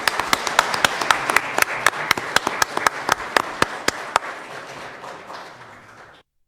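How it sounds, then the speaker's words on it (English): A city council meeting audience claps for the motorcycle club, a few people clapping sharply and unevenly close by for several seconds before it stops abruptly. "would you all stand so we can applaud you?"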